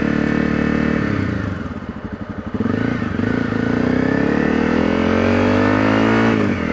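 A Honda CRF250L dual-sport motorcycle rides on cold winter roads below freezing, its engine droning loud and close, dipping briefly, then revving back up and holding a strong, steady pull.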